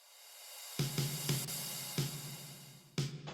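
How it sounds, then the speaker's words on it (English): A snare drum fill in a music track plays as a handful of sharp hits at uneven intervals over a sustained backing, with one final crack near the end. "There is a little fill as well on top of that with a snare."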